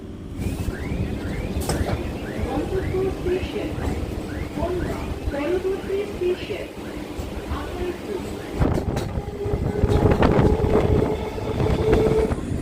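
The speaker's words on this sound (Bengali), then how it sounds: "আমাদের ট্রেন এই মুহূর্তে প্রবেশ করলো আকাইপুর হল্ট রেলওয়ে স্টেশনে" A local train on the Ranaghat–Bangaon line rumbles into Akaipur Halt station with rising squeals and metallic clatter, while voices murmur faintly beneath the noise.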